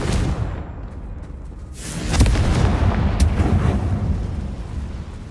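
A Confringo fire-blast spell from a Hogwarts video game erupts in a deep, rumbling boom that swells and lingers for several seconds after a quieter opening, with no speech.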